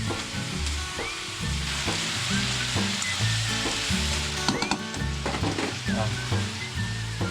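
Pinakbet vegetables sizzle and fry in a pan while being stirred, with a busy crackling hiss and repeated clinks and scrapes of the utensil against the pan, close and continuous.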